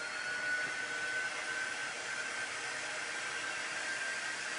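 A handheld dryer blows a continuous steady rush of air to dry a freshly painted craft piece, loud and close with a faint whine running through it and no talking.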